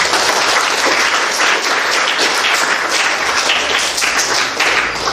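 Sustained, dense applause from an audience at a virtual Indonesian Islamic boarding school closing and motivation event, steady and loud for the whole stretch, with no talk.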